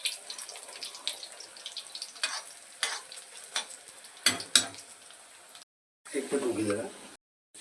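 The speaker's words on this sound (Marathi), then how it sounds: "त्यांनी तो ब्रेडचं पीस बेसनमध्ये टाकून कढाईमध्ये टाकला आहे" Bread pieces dipped in gram-flour batter fry in hot oil in a kadhai, giving a steady close sizzle broken by brief sharp crackles and splutters, with a short silent gap and a final louder burst of bubbling.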